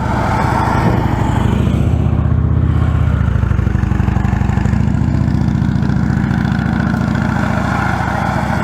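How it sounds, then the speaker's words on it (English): Police motorcycles at a training exercise rumble steadily close by, a loud, even engine drone with mild pulsing as the bikes move. "So we're going to bring our bikes over to the other side here."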